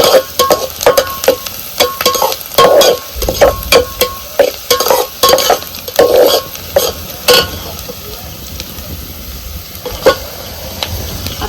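A spoon stirs onion, turmeric and salt in a pan for mutton curry, with loud repeated scraping strokes over a soft sizzle, the stirring rhythmic for most of the stretch, then easing into a quieter hiss.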